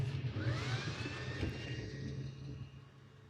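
A laser cutter runs with its exhaust fan on during a precision masking cut, giving a steady broadband whoosh with a low hum and faint rising whine, constant throughout with no talking.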